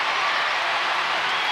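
A judo arena crowd at a Paris Grand Slam cheering and applauding, a steady broad wash of clapping and roaring voices throughout the short moment.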